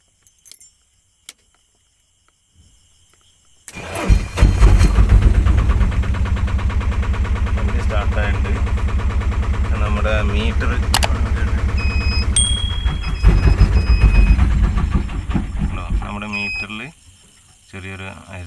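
A Tata Magic Iris with a faulty self-starter is cranked and its engine catches, running loudly and steadily at close range for about thirteen seconds with a slight misfire before it is shut off, preceded by a few small clicks.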